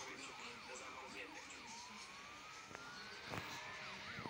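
A police siren wails during a car chase in the video game Highway Drifter, a quiet, rapid up-and-down yelp that shifts into a long rising tone over engine hum, with a few sharp bangs near the end.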